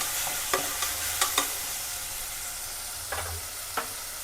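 Mint sizzling in a pan for mutton palav, with a soft steady fry and a handful of sharp spoon scrapes spaced irregularly, close by, no talking.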